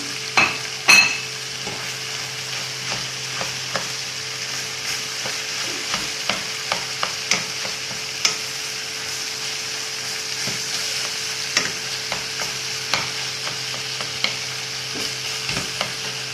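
Minced meat frying in butter gives a steady close sizzle, broken by sharp scrapes and taps of a utensil stirring through the pan at irregular intervals; no voices.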